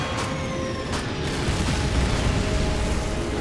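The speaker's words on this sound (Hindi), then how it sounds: "बड़े धमाके हो रहे हैं।" Explosions in the Call of Duty 2 war game, with a few sharp blasts early on rolling into a dense, continuous low rumble of battle that stays loud throughout.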